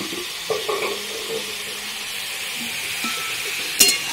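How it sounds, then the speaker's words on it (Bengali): Vegetables are stirred with matar dal, salt, turmeric and green chillies in a sizzling pan, a constant close hiss broken by a few brief scrapes of the spoon, the last one louder. "এখানে নাড়িয়ে দেবো, একটু ছাড়বো মটর ডালের সঙ্গে।"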